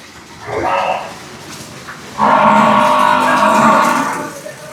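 Murrah and Bunni buffaloes at a livestock sale low loudly, with one short call followed by a longer, deeper bellow close by.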